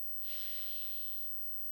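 A single slow breath drawn in through the nose during a qigong exercise, close and soft, a hissing inhale lasting about a second.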